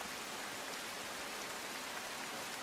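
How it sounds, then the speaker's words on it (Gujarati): Heavy monsoon rain falling steadily over the flooded streets of Valsad district, a dense, even hiss that holds constant from start to finish with no voices. "વલસાડ જિલ્લામાં ભારે વરસાદથી પાણી ભરાયા"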